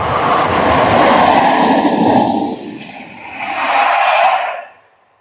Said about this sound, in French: on regarde d'autres trains passer